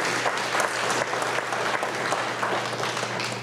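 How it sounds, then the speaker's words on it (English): A school district audience gives students a sustained round of applause, dense steady clapping from many hands filling the room at an even level throughout, with no talking over it. "Let's give them one more round of applause"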